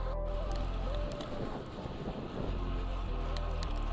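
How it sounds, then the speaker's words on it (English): Strong gusting wind buffets a cyclist riding rural roads near Strafford, Missouri, a steady loud roar of wind noise over the microphone throughout, briefly dipping midway before surging again. "The wind's pretty wicked today, that's for sure."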